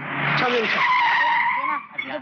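A car skids to a stop in a Hindi action movie, with a loud, sustained tire screech that wavers in pitch for over two seconds, and a voice faintly mixed in.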